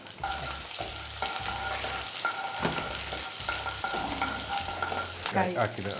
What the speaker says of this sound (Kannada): ಎಣ್ಣೆ ಹಾಕಿದ್ದೀನಿ ಸಾಸಿವೆ ಹಾಕಿದ್ದೀನಿ ಕರಿಬೇವು ಹಾಕ್ತಿದ್ದೀನಿ